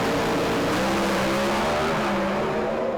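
Drag racing cars at a strip in the pre-stage lanes, a loud steady broadband engine roar that holds close and constant throughout with no audible talk.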